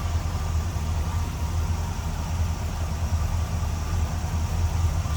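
A 1965 Chevrolet Chevelle Malibu Sport Coupe with a 283 V8 idles steadily, a low, even, continuous rumble heard up close with no voices over it.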